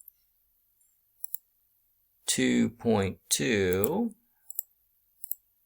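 Calculator keys clicking in sparse, crisp taps, a couple near the start and a few near the end, with a person talking in between.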